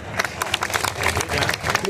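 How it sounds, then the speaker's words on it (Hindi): An audience at a Urdu poetry gathering claps, a dense patter of applause over crowd murmur and voices. "एक बार उनके लिए पहले तालियां बजाएं"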